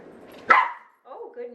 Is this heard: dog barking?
yes